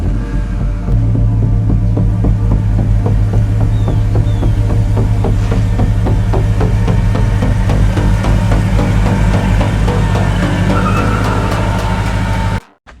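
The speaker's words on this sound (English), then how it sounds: "this is a 2011 Ford F-150 with a 6-cylinder twin turbo motor" A 2011 Ford F-150 FX2 with a twin-turbo six-cylinder engine runs steadily at close range with a loud, throbbing low hum and an even pulse, and then it cuts off abruptly at the end.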